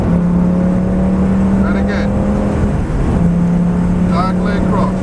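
Lamborghini Gallardo engine at steady, loud drone on the Donington track, heard from inside the car as it accelerates, with a brief dip in pitch mid-way and wind and road noise throughout.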